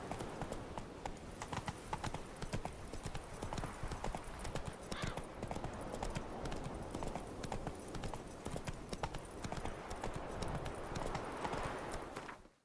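A horse gallops under its rider in the video game The Witcher 3, with fast, continuous clip-clop hoofbeats drumming steadily for the whole stretch, fairly close, over a faint ambient bed.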